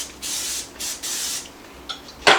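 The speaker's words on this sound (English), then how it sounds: "I lightly spray mine for the first time" Cooking oil spray misted onto a pizzelle iron in short hissing bursts, three close spritzes followed by a sharp click near the end, heard up close with no talking.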